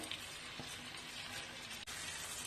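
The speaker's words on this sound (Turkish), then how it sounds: "yağımızı kızdırdıktan sonra içine 2 su bardağı pirinci ekleyelim" Rice sizzles steadily as it fries in hot butter and oil in a pot for pilaf, a dense continuous crackle with a soft stir or clink partway through and no talking.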